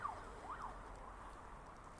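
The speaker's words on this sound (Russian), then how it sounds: "Эти пожарные машины," A distant fire truck siren wails faintly, rising and falling over low background traffic rumble on a winter street.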